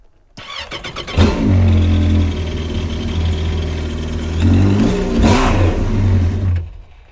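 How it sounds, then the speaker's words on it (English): A jet ski engine catches after a brief starter whir, then settles into a loud, close, steady idle with a rough low drone, swells briefly in a rev near the end, and drops off. "the engine fires up"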